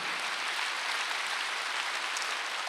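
A church congregation applauding during a Wednesday worship service, a steady even wash of clapping hands for a few seconds with no voices over it.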